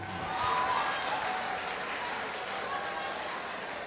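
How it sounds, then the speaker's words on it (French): A hall audience applauding a female singer at a talent show final: dense, sustained clapping from a large crowd, loud and even throughout, with a voice faintly present. "On peut encore l'applaudir, je vous en prie."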